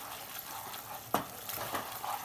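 A spoon stirs spices into red pasta sauce in a pan, a soft ongoing bubbling sizzle broken by a sharp clink of metal on the pan and a few scraping strokes.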